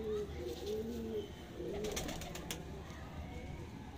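A pigeon coos in several soft, warbling phrases close by during an inspection of a pure Ali-line pigeon in Sialkot, with faint background noise and a few brief clicks.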